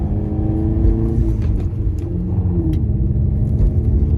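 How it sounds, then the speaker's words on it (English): A manual car's engine hums loud and steady from inside the cabin while the driver upshifts, the rumbling drone shifting pitch as the revs fall and rise, with faint clicks from the controls. "And I'm gonna upshift here."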